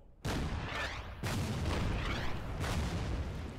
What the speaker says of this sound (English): First thing I'm going to do is actually try to fire at their artillery.